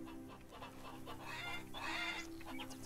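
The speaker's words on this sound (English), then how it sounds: "Good morning, chickens." Farm chickens clucking in the Farmer's Dynasty video game, several birds chattering and squawking together in a steady, close stream with a rising burst of clucks midway and no talk.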